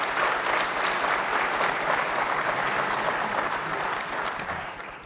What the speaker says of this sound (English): please give the speakers that have already been up here an appreciative round of applause